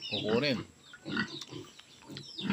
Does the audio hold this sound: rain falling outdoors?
no